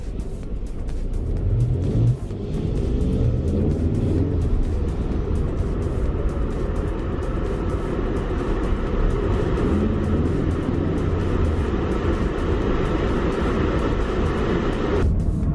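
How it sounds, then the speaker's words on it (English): A Ford Mustang with a turbo engine accelerates while driving in Dallas, heard from inside the car as a steady, loud, rising engine drone that holds for the whole stretch and cuts off abruptly at the end. "Oh yeah, I can hear the turbo."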